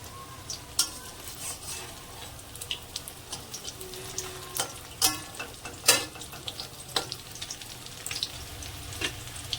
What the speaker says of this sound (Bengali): এটাকে বড়া করে ভেজে নেবো